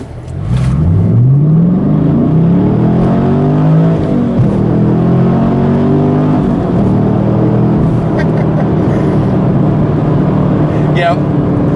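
A 2014 Camaro SS 1LE engine revs up hard through first gear, pitch climbing steeply before shifting, loud and close, with a brief chirp near the end.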